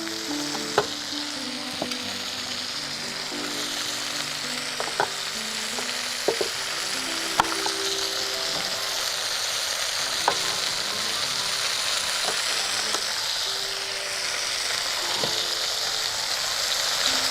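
Onion pulled fresh from the garden sizzles steadily in a hot pan, with a broad, continuous frying hiss and occasional sharp clicks of stirring utensils against the pan throughout.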